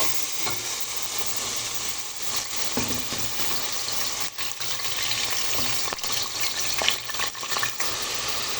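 Ground spices, lentil powder and turmeric fry in oil in a cooking pot over a gas flame, a steady dense sizzle with occasional stirring scrapes, close and continuous throughout.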